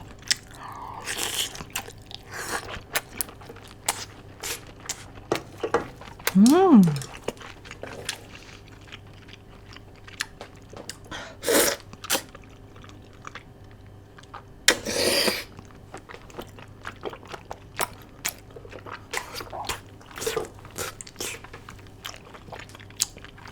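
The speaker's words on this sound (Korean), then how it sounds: "오늘 이렇게 랍스타 떡볶이를 먹어봤는데요" Someone eats lobster tteokbokki with crispy grilled beef intestines, making close, crunchy bites and wet chewing that come in scattered bursts over a quiet background, with a brief vocal sound midway.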